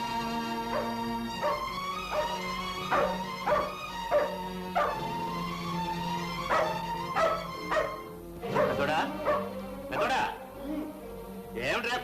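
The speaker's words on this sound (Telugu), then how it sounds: "ఏమిట్రా కుక్కరుకుంది?" A dog in a Telugu feature film scene barks and yips repeatedly in irregular bursts, some barks sharp and others whimpering, while people talk at moments.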